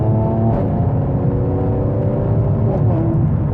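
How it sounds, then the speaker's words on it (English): A tuned Mercedes-AMG C43 with a 3-liter bi-turbo V6 and four-wheel drive accelerates hard, heard from inside as a loud, steady, rising engine drone with layered harmonics and no talking. "this is a V6 Mercedes engine"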